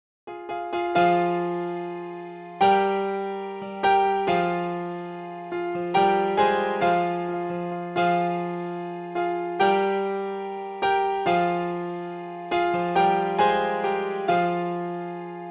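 A solo piano plays the live outro riff of a song, repeated struck chords and notes in a steady rhythm, each decaying cleanly, close and clear with no voices.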